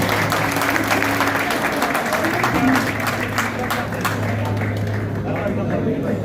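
Crowd applause at the opening ceremony of a cricket league in Jhelum, a steady wash of many clapping hands over a low hum, with voices audible beneath the clapping.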